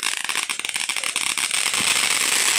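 Fireworks exploding outdoors, a rapid run of crackling pops that thickens into a dense, continuous sizzling crackle, fairly loud and alone.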